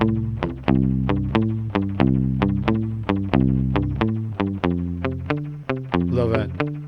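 A Fender Bass VI plucked through spring reverb plays a steady run of about a dozen clear, ringing notes, each attack decaying into a short echoing tail, with a brief shimmering flourish near the end.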